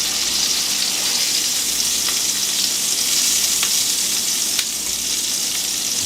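Hamburgers frying in a hot pan give a steady, loud, close sizzle with no break, dotted with a few faint pops and crackles, and no talking.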